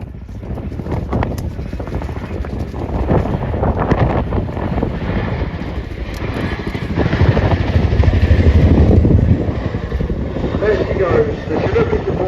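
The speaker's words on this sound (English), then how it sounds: "Please look to the sky and welcome your Chinook roll demonstration for" A Chinook helicopter flies a roll display at an air show at Duxford, its deep rotor thrum and engine roar steady and distant under gusting wind on the microphone.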